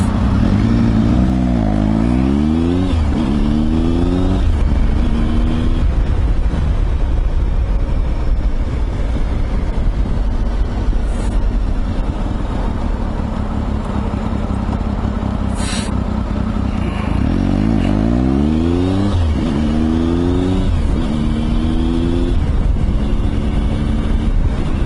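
A Triumph Tiger motorcycle engine drones steadily while riding, loud and close, with repeated rising and falling pitch sweeps as the rider shifts through gears and accelerates, wind rush blended in throughout.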